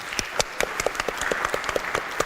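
Faint applause from a seated audience at a post-budget breakfast, scattered distinct claps with a soft crowd wash behind them, distant and steady.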